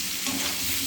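A spiced boiled-potato curry stirred in a pan, giving a brief, close scraping and soft sizzle.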